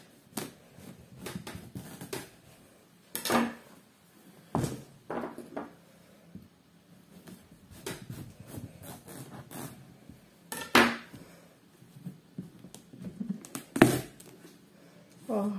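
A knife cuts through a large pumpkin on a kitchen surface, producing irregular close thuds, knocks and scraping chops separated by short pauses.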